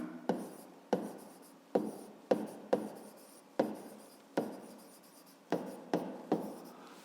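Pen strokes tap and scratch across paper as a math formula is written out, about a dozen sharp pen-down contacts each trailing into a short scratchy stroke, close and quiet with no talking.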